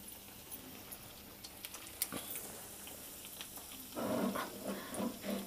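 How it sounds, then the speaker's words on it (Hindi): Bread rolls frying in a pan: a quiet, steady sizzle that grows louder and denser partway through as the rolls settle into the hot oil, with no talking. "ज़बरदस्त से ये रोल हमारे पैन में ऐड हम कर रहे हैं, अच्छे से ये फ्राई करेंगे हम इन्हें फिर"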